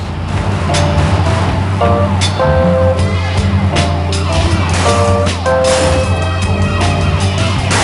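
Police sirens in Grand Theft Auto: Chinatown Wars wail over a constant low engine drone, with tones repeating and overlapping in a busy, game-like mix.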